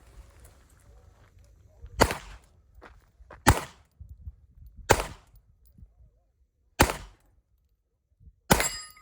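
Loud pistol shots ring out one at a time at a desert shooting competition, five widely spaced cracks over several seconds with quiet gaps and faint movement between them.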